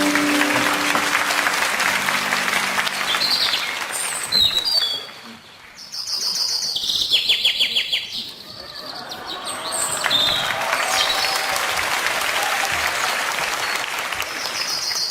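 A church congregation at an autumn special dawn revival service claps warmly to welcome two preachers, a dense, loud wash of applause that drops away briefly mid-clip as bright chirping, whistle-like tones come through, then swells back strongly.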